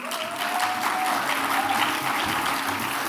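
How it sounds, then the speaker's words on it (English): Sustained applause from a conference audience fills the whole stretch, steady and dense, with a faint tone running underneath. "We can clap for her as she comes."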